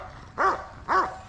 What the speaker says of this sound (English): Got these dogs going crazy.